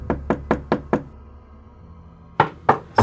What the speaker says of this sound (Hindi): तभी किसी ने अचानक मेरे कमरे की खिड़की खटखटाई।